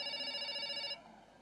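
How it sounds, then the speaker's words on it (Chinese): A telephone rings in a Chinese TV drama scene, a steady electronic ring that sounds clearly for about a second and then cuts off, leaving a quiet room with no talk. "夏冰电话。"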